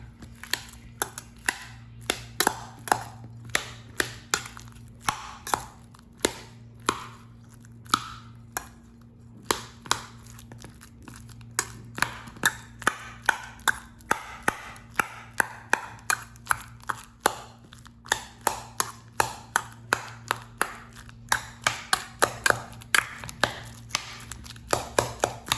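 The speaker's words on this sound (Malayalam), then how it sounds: "ഇനി ഇതിനെ ഒരു സ്പൂൺ ഉപയോഗിച്ച് നന്നായിട്ട് ബ്ലെൻഡ് ചെയ്തെടുക്കാം." Peeled bananas are mashed with a spoon in a bowl, giving a long run of sharp, steady taps and squishy scrapes at a brisk, uneven rhythm under a low constant hum.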